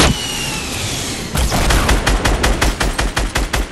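RPG rocket launchers firing in Fortnite, a loud sustained blast giving way to a rapid series of sharp, evenly spaced booming shots, close and dominant with no voices over it.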